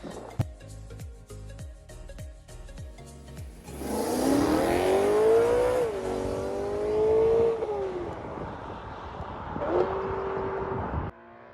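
A BMW M3 E92 heard from outside idles with a burbling rumble, then revs hard and pulls away, its engine note climbing and falling through gears before fading into the distance.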